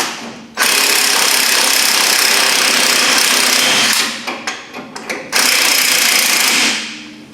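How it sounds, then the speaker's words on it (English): An impact wrench runs on the front leaf spring bolts of a Jeep XJ, a loud continuous close rattle that breaks into a few short bursts before another sustained run and then winds down. "Looks like I might be able to get out with my impactor after all."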